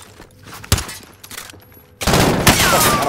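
Video game gunfire during a military-style shooter match, with scattered sharp shots at first, then a loud, sustained burst of rapid fire filling the second half, with no talk heard.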